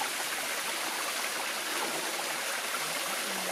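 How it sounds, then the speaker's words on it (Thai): Steady rushing water from a stream and waterfall along a jungle hiking trail at Khao Laem, a continuous broadband wash with no talk over it. "เริ่มเห็นน้ำตกเลยครับ"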